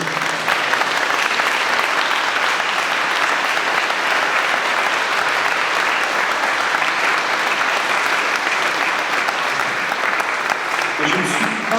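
Wedding guests at a church marriage ceremony burst into sustained, dense applause that fills the room steadily and loudly for about twelve seconds, with a faint murmur of the crowd beneath the clapping.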